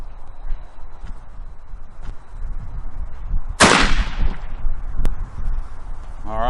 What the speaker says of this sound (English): I'm still shooting the power points here, putting them in by hand